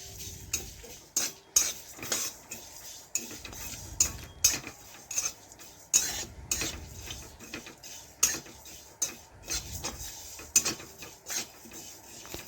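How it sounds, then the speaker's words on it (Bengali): Whole spices (panch phoron, mustard seeds, cumin, ajwain, cinnamon, cardamom and dried red chillies) are stirred and dry-roasted in a pan, making repeated crisp metallic clinks and short scrapes in a loose rhythm, close and fairly quiet. "নিয়েছি আমি 5 ফোড়ন, গোটা সরষে, গোটা জিরে, জোয়ান, দারচিনি, এলাচ ও শুকনো লঙ্কা, সব একসাথে বসিয়ে আমি একটু নাড়াচাড়া করে ভেজে নেব"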